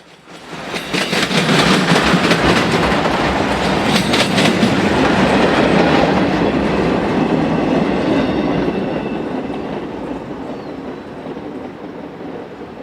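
A train of empty molten steel cars, their tops still glowing from residual heat, rolls past at CP100 near Chicago with a steady loud clickety-clack of wheels on rails that slowly fades as it moves on.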